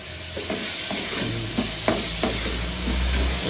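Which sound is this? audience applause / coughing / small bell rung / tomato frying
tomato frying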